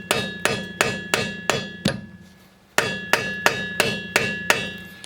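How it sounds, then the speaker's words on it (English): Sharp metallic hammer blows drive a socket onto a locking wheel nut in a quick steady rhythm, pausing briefly after a run of six before resuming with another series, ringing slightly. "after you've hammered on it with the hammer and the rod"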